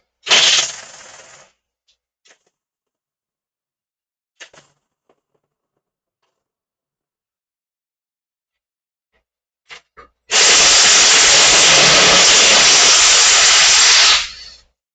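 A power wrench in a garage removes wheel nuts: a short blast near the start, a few faint clicks in the quiet middle, then a long loud burst of hissing, rattling air power near the end.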